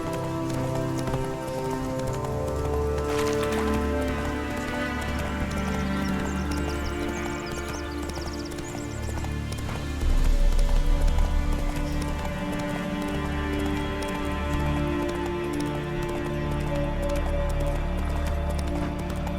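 Horse galloping in the video game Witcher 3 Wild Hunt, steady rhythmic hoofbeats close by with game music and ambience underneath throughout.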